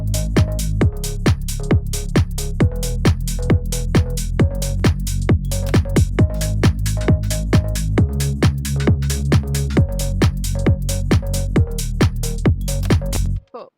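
A punchy bass line locked to a steady drum beat, kick and snare hitting regularly for about fourteen seconds, loud and upfront, ending abruptly.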